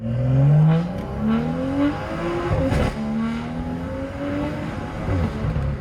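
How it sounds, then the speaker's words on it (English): A modified BMW M2 revs hard, its exhaust rising through several gear pulls with a deep, throaty drone that swells and shifts, loud and close with no talking. "Lots of people say I have the best sounding BMW M2"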